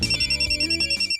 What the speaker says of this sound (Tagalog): Tita Teresita, imong cellphone, no? Nag-ring?